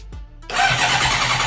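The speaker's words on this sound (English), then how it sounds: "The bike is alive! The bike is alive! We've got a running bike." A wrecked 2006 Honda CBR600RR motorcycle being rebuilt cranks briefly on the starter, then its engine catches and settles into a loud, close, steady idle.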